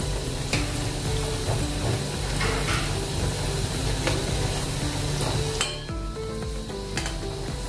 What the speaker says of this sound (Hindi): ऐसे पलट पलट के इसको हम तल लेंगे अभी।